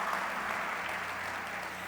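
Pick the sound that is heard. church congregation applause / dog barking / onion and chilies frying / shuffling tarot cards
church congregation applause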